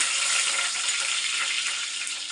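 Onions fry in hot oil for mutton curry, producing a loud, constant hissing sizzle with no voices.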